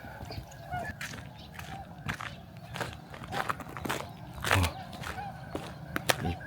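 Ducks and swans call at a lake in snowy Niigata, with scattered honks and quacks rising from the flock at mid distance, mixed with faint rustling and footsteps nearby.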